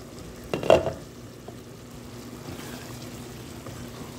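Cabbage frying in a pan, a soft steady sizzle with one brief clattering stir of a spatula near the start, then a quiet hiss alone.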